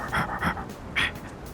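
Dog panting in the Persona 3 Reload video game, a few quick rhythmic breaths heard close and clear, alone without talk.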